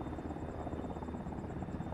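A Chinook helicopter in the Arma 3 military simulation game gives a steady, continuous rotor thrum, faint and evenly sustained, with no talk over it.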